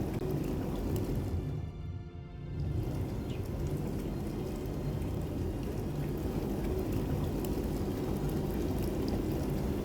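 Water condensers in the space-station video game Jumplight Odyssey produce water with a steady pouring, bubbling liquid sound. It runs continuously at moderate level and dips briefly early on.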